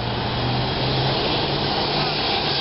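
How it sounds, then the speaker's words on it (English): A small airplane flies near Teterboro airport, its engine making a steady, broad drone with a low hum that holds evenly throughout at a moderate distance. "Tiny plane."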